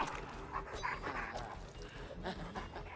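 A video game killer character pants heavily like a dog, with rapid breathy huffs over constant game noise and someone talking.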